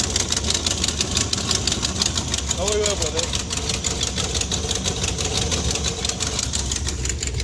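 An old muscle car's 383 V8, with a bad exhaust leak, idles after a cold start in a loud, fast, ticking rumble. A voice speaks briefly over the engine.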